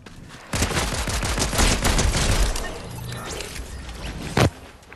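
Gunfire in the video game Fortnite, a dense burst of rapid shots lasting several seconds and then tapering off, with one sharp louder report near the end.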